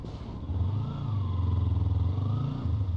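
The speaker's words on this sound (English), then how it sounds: "That's why I was hard revving right there." A vehicle engine held in second gear revs hard during a road-rage incident, a loud, steady droning roar with a rising pitch that swells after a brief lull and holds close throughout.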